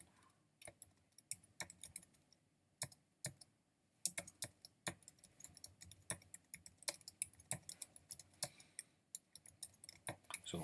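Close, crisp clatter of a computer keyboard while Java comments are typed, uneven bursts of rapid key taps with brief gaps between them, heard alone without speech.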